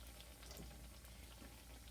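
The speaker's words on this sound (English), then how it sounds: "My fry cake is frying." A fry cake sizzling in hot oil, a steady, soft crackle and bubbling throughout with no other sounds.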